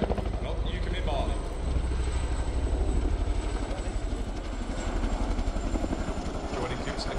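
A Chinook twin-rotor helicopter flies at the RIAT 2024 air show, its dense rotor thump and engine roar steady and fairly loud throughout, with a commentator's voice over the public address mixed in.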